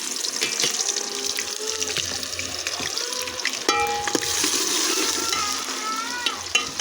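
Onions hit hot oil and crackle in a steady, bright sizzle, with stirring clatter and a few sharp utensil knocks against the pan close by.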